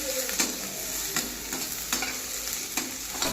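Garlic, onion and chillies sauté in hot oil for a chilli chicken dish, giving a steady close sizzle punctuated by several sharp scraping strokes of a spoon stirring the pan, with no talk.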